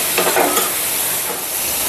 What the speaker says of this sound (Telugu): ఇదిగోండి టమోటా ఆనియన్ బాగా గుజ్జయి ఫ్రై అయిపోయింది కారంతో.